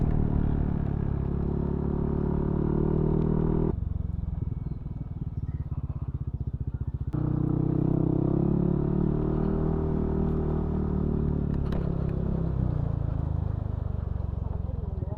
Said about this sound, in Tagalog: Tinayuan na yung kuya yung tricycle.